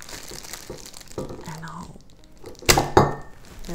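A Ziploc plastic bag crinkles and rustles close up as it is pulled over a kombucha bottle, with sharp crackling bursts near the end and a voice speaking between them.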